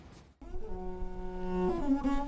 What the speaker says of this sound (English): This is the sound of the imzad, a single-string violin played exclusively by Tuareg women in Algeria.